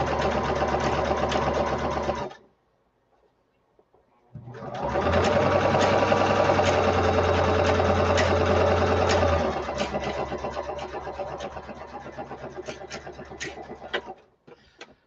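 A sewing machine stitching rows on fabric for a scrappy drawstring bag, running loud and steady in close range, stopping briefly, then whirring again at a rhythmic pace.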